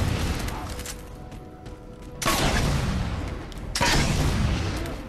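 Gunfire in the Xbox 360 shooter Halo 4: two loud, sustained bursts of shots, each hitting hard and then trailing off, over a steady background rumble of game noise.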